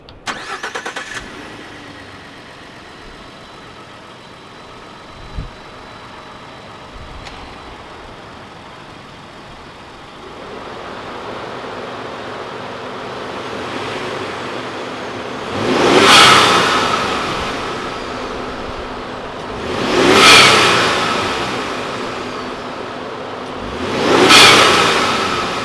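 A Ford F-150 EcoBoost pickup fitted with a vent-to-atmosphere blow-off valve starts up and idles, then gives three sharp revs spaced a few seconds apart, each rising and falling with a loud whoosh, recorded close with no talking.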